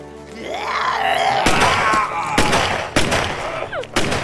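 Several sharp gunshots crack out at irregular intervals over a wailing, groaning zombie voice, loud and close.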